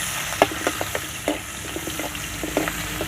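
Onion pieces fry in hot oil for a fish curry, a constant close sizzle with scattered clicks and scrapes as a utensil stirs them in the pan.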